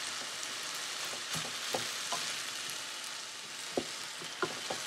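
Tuna and kale frying in a pan, a steady soft sizzle broken by scattered scraping stirs and a few sharper taps, fairly quiet and with no talk.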